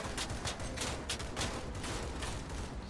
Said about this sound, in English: Just firing some shots on the distance.